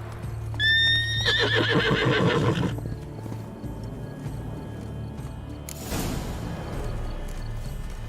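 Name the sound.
horse Roach neighing in video game The Witcher 3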